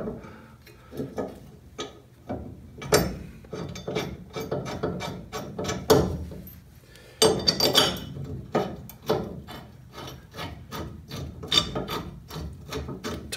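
A ratchet tightens the caliper bracket bolts during a front brake installation on a small-body AMC such as a Gremlin or Hornet, giving rapid repeated clicking bursts close up with short pauses between strokes.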